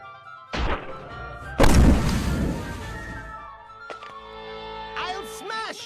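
Bombs detonating in the action game Trillion: God of Destruction, two heavy booming thuds about a second apart followed by a lingering rumble, with game music and tonal effects continuing around them.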